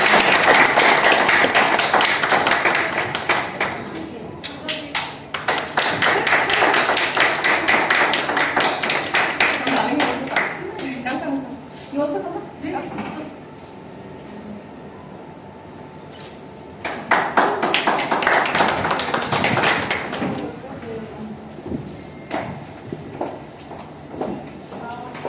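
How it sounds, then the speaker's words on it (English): Event audience applauding in uneven bursts, with dense clapping at the start that thins into scattered claps, swells again briefly, then fades, mixed with some background voices. "May I have a huge round of applause please?"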